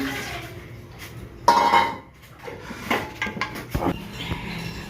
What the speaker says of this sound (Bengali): কড়া মেজে এখন এই কড়াইয়ের তলায় ছাই দিল